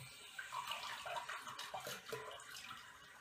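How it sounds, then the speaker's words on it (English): Water being squeezed out of a wet shaving brush over a sink after a shave, giving a soft continuous trickle and splatter with faint dripping, close and quiet, with no talk. "you do that by simply squeezing out the brush of any remaining water"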